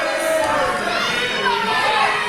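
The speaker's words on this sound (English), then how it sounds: "This crowd are already raucous and the bell hasn't even rung yet." A raucous wrestling crowd before the opening bell makes a dense, loud roar of shouting and cheering voices, with high-pitched yells rising over the steady din.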